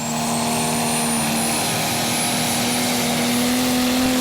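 Mad Croc Caesar, a Prostock pulling tractor from the Hurleby team, at the 2014 Eurocup tractor pull in Brande, Denmark: a loud, sustained engine roar holds one steady droning pitch that climbs very slightly.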